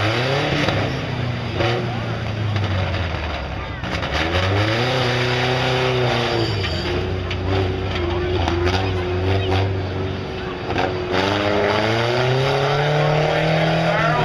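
A 1982 Dodge D50 pickup in a two-wheel-drive tough truck event, its engine revving and rising and falling loudly as it runs the course, with an announcer talking over the engine throughout.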